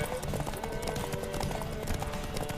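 Rhythmic horse hooves clip-clopping at a trot in The Witcher 3: Wild Hunt, with game music and effects layered underneath.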